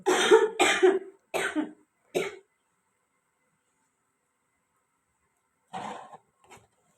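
A person with a cold coughs in a winter morning at home, a quick burst of four harsh coughs close by, then silence and two weaker coughs later.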